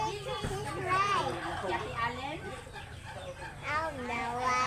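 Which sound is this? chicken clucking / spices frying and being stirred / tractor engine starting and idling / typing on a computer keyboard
chicken clucking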